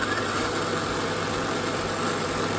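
A Traction Hobby F150 1/8-scale RC truck motor hums in a steady, even drone under throttle, close and alone, with no talking.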